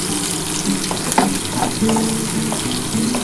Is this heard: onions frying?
yes